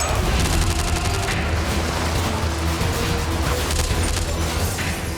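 Bursts of gunfire fill the foyer during a staged terrorist siege of a theatre, heavy booming shots and rattling volleys layered over a constant loud roar, with no clear pauses across the stretch.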